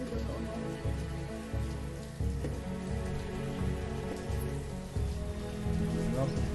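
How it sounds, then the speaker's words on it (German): Rain pours steadily in the medieval town-building game Banished, a continuous hiss of drops under a looping low musical drone, with faint talk mixed in. "jetzt regnet es auch"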